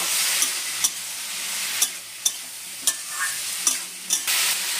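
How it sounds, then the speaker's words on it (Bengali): Spiced mixed vegetables fry in a pan with a soft continuous sizzle, punctuated by regular sharp scrapes and knocks of a spoon stirring roughly every half second. "এই মশলাটা একটু ভালো করে আগে কষে নেবো।"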